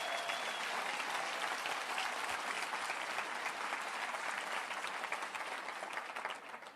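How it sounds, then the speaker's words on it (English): Audience at a motivational seminar applauding, dense continuous clapping heard from a distance at moderate level throughout, slowly tapering at the end. "Give a big round of applause, please."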